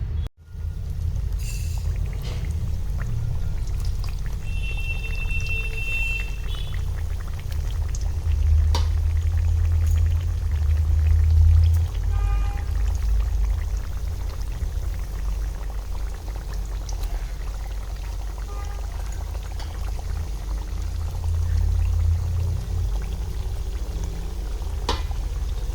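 Square semolina mathri frying in a pan of oil over a medium flame, a steady low bubbling sizzle that holds for the whole stretch with a few faint clinks and small knocks near the pan.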